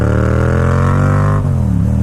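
A motorcycle engine revs hard and close in third gear as the rider pops a wheelie, its pitch climbing steadily before dropping sharply and then rising again.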